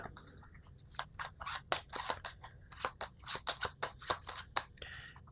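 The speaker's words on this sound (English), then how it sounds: "You'll go ahead and shuffle these 3 cards up." Cards riffle and flick in quick, crisp bursts, a close shuffling patter of papery slaps and clicks.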